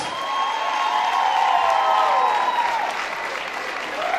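An audience at a carnival show claps in a sustained, dense wave of applause, steady and fairly loud, with a faint tonal sound running through it and a voice briefly audible.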